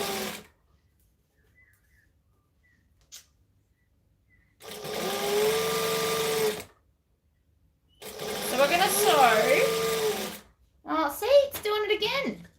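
Three bursts of a sewing machine stitching fabric to make scrunchies, each a steady mechanical whir lasting a couple of seconds, separated by silence, with brief speech at the end.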